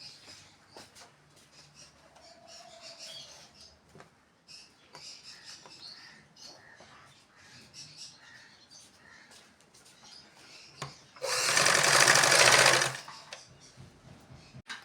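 A sewing machine stitches shirt panels together in one loud, fast run of about two seconds, preceded by quiet handling noises and soft clicks.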